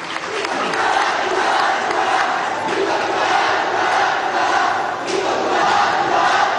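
A large crowd at a Venezuelan government event for INCE youth apprentices cheers and applauds loudly and steadily, with shouts rising over a dense, continuous roar.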